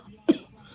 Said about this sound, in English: I have a little bit of cough going on here lately.